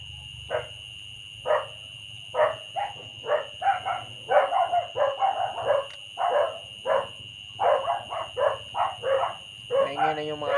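Several dogs bark in a rapid, irregular series of sharp calls across the whole stretch, fairly close and loud, over a steady background hum.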